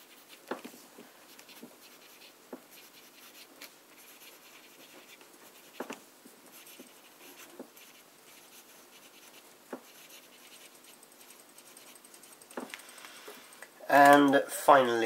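A wet, saturated broad fountain pen nib scratches softly across paper, with quiet intermittent strokes and taps over a near-silent background, ending with a brief louder noise.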